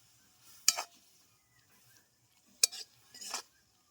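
A spoon stirs raw mango pickle with salt in a quiet kitchen, giving a few soft clinks and brief scrapes against the bowl, separated by near silence.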